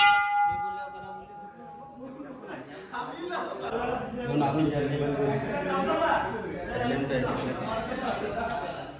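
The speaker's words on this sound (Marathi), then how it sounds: "खूप कसा घंटा वाजी होते" A temple bell rings clearly at the start with a sustained tone, then fades under loud crowd chatter and voices filling the rest.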